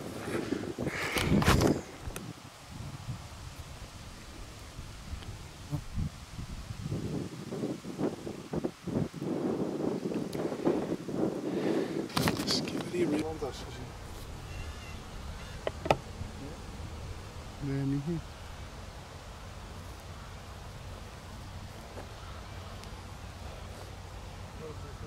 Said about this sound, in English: The wind. So annoying.